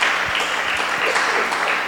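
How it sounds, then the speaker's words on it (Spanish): Congregation applauding during a Spanish-language church service, a steady dense wash of clapping that fills the whole moment at fairly close range. "Darle un aplauso, Señor"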